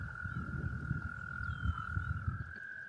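A steady chorus of toads croaks from a pond at Black Moshannon State Park in Pennsylvania, low rapid pulsing calls overlapping continuously beneath a long unbroken high trill, moderately distant and with no voices.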